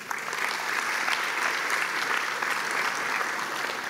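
Steady applause from an audience at a university graduation ceremony, dense continuous clapping held at an even level for the whole stretch with no voices over it.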